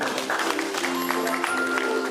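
An audience at a couple-of-the-year contest applauds in a steady wash of clapping, with faint voices and a tonal hum running underneath.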